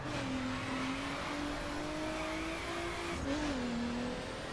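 A Nissan GT-R R35 accelerates in the racing game The Crew, its engine tone rising steadily, dipping briefly at a gear change, then climbing again, heard fairly faint and alone.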